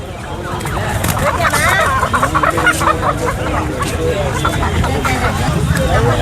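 Poultry clucking and calling at a weekly Friday pet and animal market in Pallavaram, with turkeys, chickens and other birds amid a steady crowd babble and nearby voices throughout.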